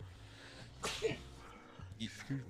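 A single sharp sneeze, fairly close, with a soft voice murmuring right after.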